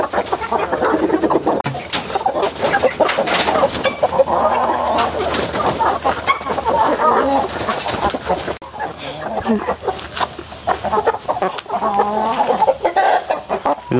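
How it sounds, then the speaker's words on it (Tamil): A rare-breed chicken, a four-month-old hen, clucks repeatedly and fairly close, with steady bird calls running through the whole stretch alongside people talking nearby. "இந்த கோழி பேர் என்னங்க?"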